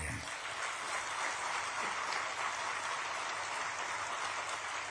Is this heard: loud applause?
yes